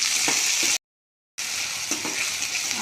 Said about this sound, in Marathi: त्यामध्ये आपण आता टोमॅटो घालूया आणि एक मिनिट परतून घ्यायचं आहे